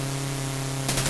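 Aircraft machine gun fire from the Chuck Yeager's Air Combat video game crackles in at the end as a short rapid burst of harsh static-like shots over a steady low engine hum.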